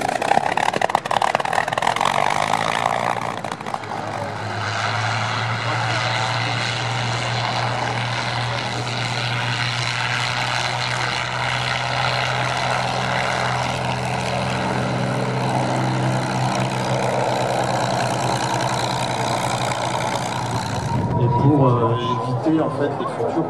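A P-51 propeller fighter flies past at the 2016 Cholet Le Pontreau air show, its loud, steady piston-engine drone holding for about twenty seconds before it fades and breaks off near the end.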